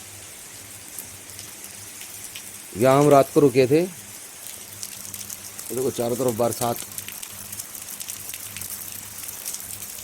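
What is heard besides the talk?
continuous rain falling at a forest campsite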